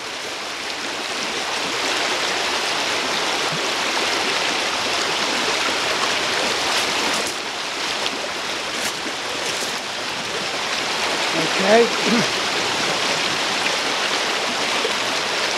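Stream water flows in a steady, close rush with constant broadband babbling, a brief soft spoken word near the end.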